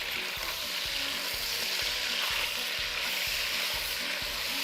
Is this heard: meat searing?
yes